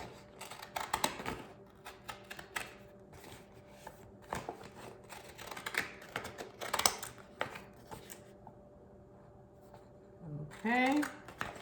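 Scissors snip out printed paper sticker labels for handmade cold process soap, giving quiet, irregular crisp cuts and paper rustles up close, with a voice speaking faintly at times.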